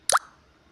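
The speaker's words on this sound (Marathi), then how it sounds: "आता राईस टाकून घ्यायचा आहे" Cooked leftover rice for masala rice drops into a pan with one short, soft plop, followed by quiet.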